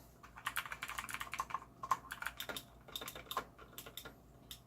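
A Redragon K551 Vera mechanical keyboard with clicky tactile switches is typed on in quick, irregular bursts of sharp, close clicks, with no voices.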